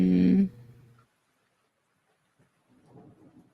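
Thunderstorm ambience recording with a loud, close rumble of thunder at the start that quickly fades, followed by near silence and then soft, rain-like patter.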